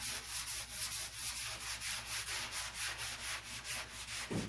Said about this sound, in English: It's sanding. Sanding's one of the more inglorious jobs